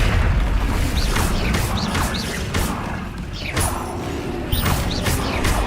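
Fire spells cast repeatedly in Hogwarts Legacy, a run of loud whooshing bursts and crackling booms over a dense, busy game soundscape, with no talk.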